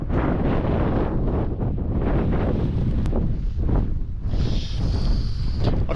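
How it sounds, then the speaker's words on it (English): Strong gusting wind buffets the microphone on an open fell summit in the Yorkshire Dales, a loud continuous roar that rises and falls across the whole stretch with no voices. "it's too damn windy here."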